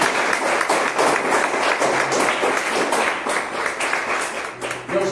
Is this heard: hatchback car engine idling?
no